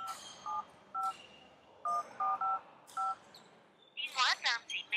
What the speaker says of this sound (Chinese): 不如我直接打电话俾佢啊